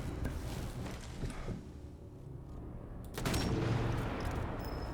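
A rapid burst of gunfire from the video game Sniper Elite 4, dense crackling shots that thin out into a quieter stretch before a louder volley returns, with no talk over it.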